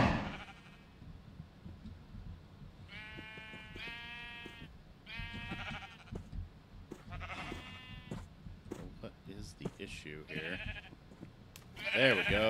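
Sheep in a Minecraft survival world bleat repeatedly, several wavering, nasal baas close by, spaced across the stretch over a low game background, with a brief louder burst at the end.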